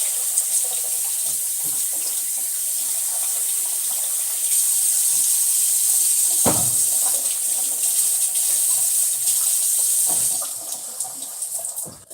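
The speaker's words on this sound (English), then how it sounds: "So you can run some hot water." Warm water runs steadily from a kitchen tap over a jar lid, a close, continuous splashing hiss that stays even before thinning out and trailing off near the end.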